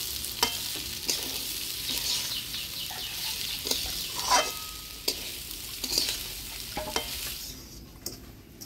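Soaked rice with cashews and raisins is stirred in a frying pan for Bengali basanti pulao, with steady close sizzling and repeated scraping knocks of the spoon, sounding alone with no talk.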